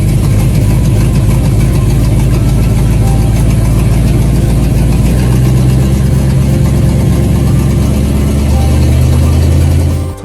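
A restored amphibious military truck's engine runs in its engine bay, a loud, steady mechanical drone with rapid clattering ticks and a deep low rumble that thickens midway, then drops off abruptly at the end.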